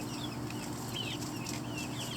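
Several chickens cluck and chirp softly in the background over a constant low hum, with short chirpy calls scattered throughout.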